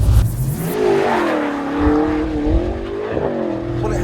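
BMW M5 30th anniversary edition saloon car driving, its engine note rising and falling through gears with a loud close-up drone, briefly dipping as it shifts before pulling again.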